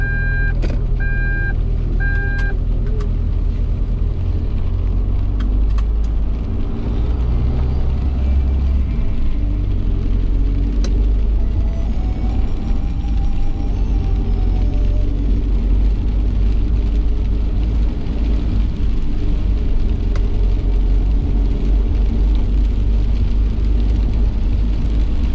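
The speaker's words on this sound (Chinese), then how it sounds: "好多大货车刚下高速" Heavy trucks and cars roll along a busy national highway near Panjin in northeast China, a constant low engine rumble with passing vehicles, and a few short reversing beeps early on.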